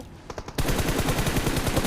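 Automatic weapon fire in the mobile battle royale game BGMI, a faint distant shot or two and then a loud, dense, continuous burst of rapid gunshots.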